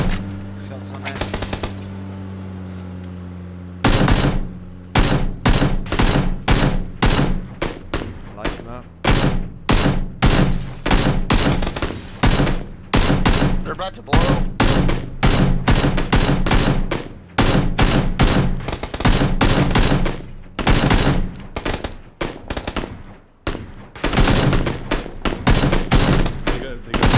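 Rapid bursts of automatic gunfire in the battle royale game PUBG, many loud volleys in close succession across the whole stretch after a brief lead-in, with faint game ambience between bursts.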